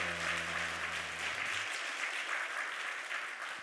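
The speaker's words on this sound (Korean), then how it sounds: "박수" Applause from a church congregation during a Sunday service, a steady, dense clapping that runs for several seconds at moderate distance, with a sustained musical tone fading out under it at the start.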